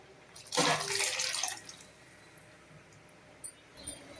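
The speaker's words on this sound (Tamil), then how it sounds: "இது கூட தண்ணி சேர்த்துக்கிறேன்." Water is poured into a pot of mixed vegetable sambar, a short splashing pour lasting about a second, followed by quiet background and a couple of faint small knocks.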